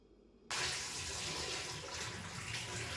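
Water gushes suddenly from a tap to wash homemade butter for ghee, a constant splashing hiss close by that carries on evenly without talk.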